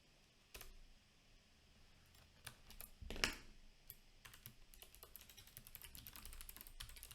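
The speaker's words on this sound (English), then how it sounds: "Let me just type in the link real quick." Fingers tap quickly on a computer keyboard in short, irregular bursts of soft clicks, one keystroke louder than the rest. The keyboard sounds close but quiet in a still room, with no one talking.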